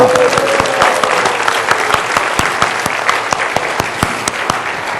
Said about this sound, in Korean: 하나님께 영광의 박수 치기를 축원합니다